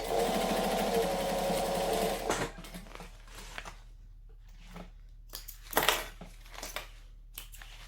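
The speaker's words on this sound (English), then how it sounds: "I'm going to sew this on first. So again, line it up, pull it over, stitch it under." A sewing machine stitches fabric in a steady, fast, close whir for about two seconds, then stops, followed by quiet handling and rustling of cloth.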